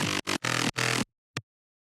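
A bass pattern runs through a Sound Toys Filter Freak filter in a remix, heard as four loud, full-band chopped pulses in a rhythmic gated pattern followed by one short final hit.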